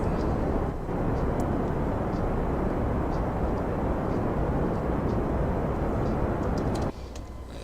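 Rocket engine in Kerbal Space Program roaring as a steady, loud broadband rumble that holds for most of the clip, then drops off sharply near the end.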